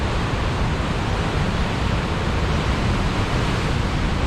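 Ocean waves surge steadily against a rocky shore, a continuous, even roar of surf with no distinct breaks, close and fairly loud throughout.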